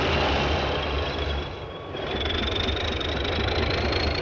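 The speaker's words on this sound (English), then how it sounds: "the switch engines begin to break her down" In a freight yard, switch engines break up freight train 406; a steady rumble of rolling railcars fills the scene with a faint wheel squeal, a brief dip in the noise partway through.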